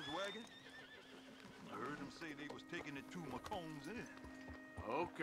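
Horse whinnying in Red Dead Redemption 2, several high wavering neighs mixed with hoof clip-clop and game ambience, with speech under and between the calls.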